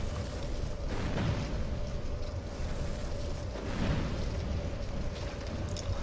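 Fire spreads across a field in the video game Dark Souls 2 with a continuous roaring rush, steady and dense, with slight swells of whooshing flame.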